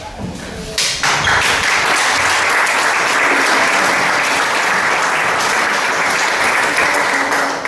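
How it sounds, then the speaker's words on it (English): Loud, dense clapping bursts in after a second and carries on steadily to the end, an audience applauding children after their chocolate party song. "A big applause to Anne, Magdalene, Lisa, and Aiden"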